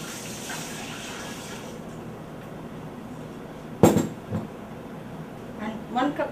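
Water gushes into a pressure cooker holding rice and dal for sakkarai pongal, a short splashing pour at the start, followed later by a sharp metallic clank and a few softer knocks.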